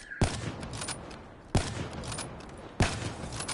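Three sharp gunshots from a video game shootout, each a loud sudden crack with a reverberant tail, spaced roughly a second and a half apart.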